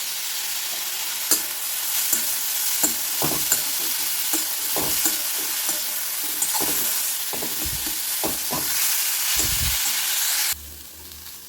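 Grated carrot sizzles in ghee in a pan, and a spoon stirs and scrapes it again and again at an uneven rhythm. The frying noise is close and steady and cuts off near the end.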